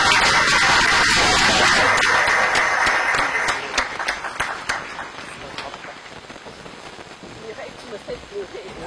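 An audience applauds at a foundation event on albinism awareness in Kinshasa, with dense clapping loud at first, then thinning into scattered claps over the final seconds as voices murmur in the room.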